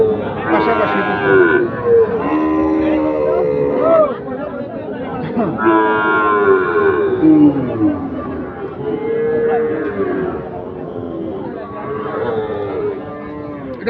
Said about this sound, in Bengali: আরো দুটি আকর্ষণীয় দুটি সাইওয়াল ষাঁড় রয়েছে পাশাপাশি দুটো